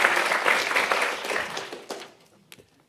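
Audience applause at a conference, a dense wash of clapping that holds steady and then fades out, ending with a few last isolated claps.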